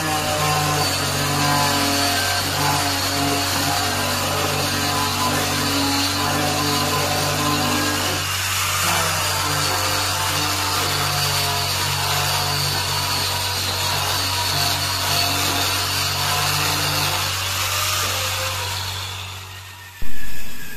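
Wood being sanded smooth in a furniture workshop, a steady continuous whirring power-tool drone with constant low hum running throughout, ending abruptly with a brief louder knock.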